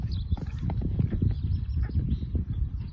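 A horse canters in a steady rhythm over cavaletti poles in a show-jumping gymnastic training session, hooves thudding close and clear, with no voices over the footfalls.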